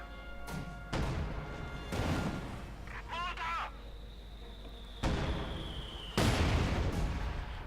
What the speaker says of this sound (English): Nice bit of mortaring there.